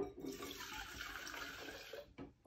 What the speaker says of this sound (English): so let's take some acetone.